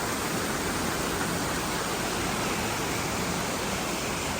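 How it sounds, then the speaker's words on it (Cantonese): Water pouring down a waterfall on the Grand Canyon loop trail near Blackheath in the Blue Mountains, a constant dense rushing hiss, even and unbroken throughout. "喺呢個瀑布流落嚟，聽下啲流水聲"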